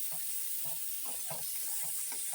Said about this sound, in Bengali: মটরশুঁটিটা দিয়ে দেবো তেলে একবারে কষানো হয়ে যাবে